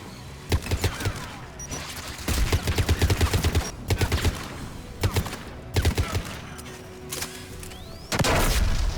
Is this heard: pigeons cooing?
no